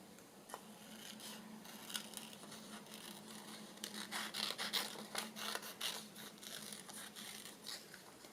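Scissors snip around a picture on a card for a sewing journal, with soft, quiet clicks and light papery scraping coming in short irregular bursts at close range.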